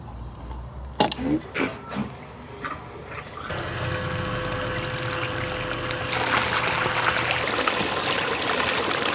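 Water runs steadily through a Gold Hog Multi Sluice set at about 8 degrees while paydirt from the Nip & Tuck gold mine is processed, a continuous rushing flow that grows fuller and louder after a few knocks and splashes at the start.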